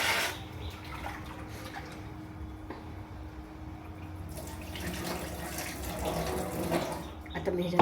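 Tap water runs into a kitchen sink while vegetables are washed, a steady splashing flow with some drips and handling noises, close and moderate in level.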